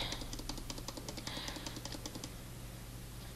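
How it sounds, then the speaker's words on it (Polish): Quiet, rapid clicking of a computer keyboard with a few mouse clicks mixed in, close by and soft, fading out toward the end. "Mam nadzieję, że nie słychać za głośno mojej klawiatury i myszki"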